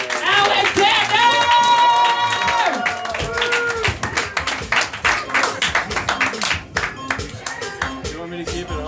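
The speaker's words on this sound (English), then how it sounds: "I want you to start clapping it out for your headliner this evening." A comedy club audience claps and cheers for the evening's headliner at a live stand-up show. Dense, steady applause fills the room alongside music and crowd voices, then thins into scattered claps.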